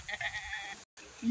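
Goats at a Marathi village goat sale bleat in a short, moderately loud burst of harmonic cries, followed by a brief silent gap and a rising onset at the end.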